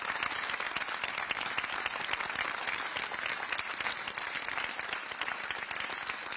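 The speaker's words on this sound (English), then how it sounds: "Let's give them all a round of applause" Dense, continuous applause from a crowd honoring World War II veterans at a D-Day anniversary ceremony, with many distinct claps merging into a steady roar.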